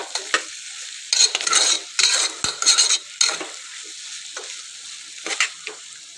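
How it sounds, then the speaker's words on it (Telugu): Bitter gourd frying in oil for kakarakaya curry is stirred with a utensil, giving bursts of crackling sizzle and scraping against the pan, close and intermittent between quieter gaps, with no speech. "ఆయిల్లో మనము కాకరకాయను ఉడకని ఇద్దామని అన్నాను కదా, ఇప్పుడు ఒకసారి కలిపి చూద్దాం"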